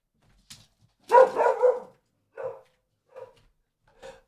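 A dog barks in a few short yips and whimpering woofs, spaced irregularly, fairly faint and behind a closed door, with no talk over it.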